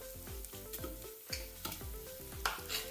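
Pork fries in rendang curry paste inside an Instant Pot, a close sizzle with repeated rhythmic scraping and stirring strokes against the pot.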